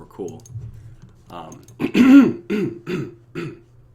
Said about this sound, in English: Gotta like clear my throat.